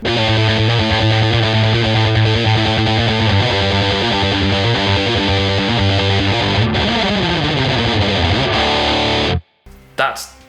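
A heavily distorted electric guitar plays a chugging, repeating riff, loud and continuous, then cuts off abruptly near the end.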